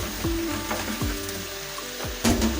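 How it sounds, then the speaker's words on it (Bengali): Vegetables with about 250 grams of talai gourd sautéing in a kadai over a medium flame, a steady close sizzle broken by a few scraping stirs and clanks against the pan, no voices. "এটাকে আমরা আরও প্রায় মিনিট 2 ধরে মিডিয়াম ফ্লেমে কষিয়ে নেব।"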